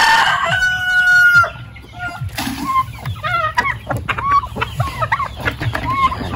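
Chickens cluck and a rooster crows nearby, with several birds calling over each other in a busy, overlapping farmyard chorus.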